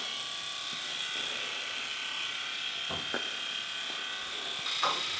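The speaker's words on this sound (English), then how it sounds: "He had more fun putting the electric toothbrush on the outside of his cheek than on the inside." An electric toothbrush held against the outside of a child's cheek buzzes in a continuous, steady high drone, with a few faint knocks and a slight change in pitch near the end.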